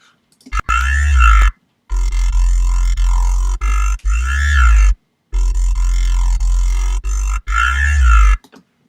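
Heavy distorted synth bass from a dubstep line, loud growling wobble phrases broken by short abrupt silences, alone with no voices.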